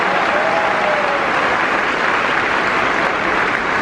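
Loud, sustained applause from a large crowd at a high school graduation ceremony, a dense steady wash of clapping that fills the whole stretch.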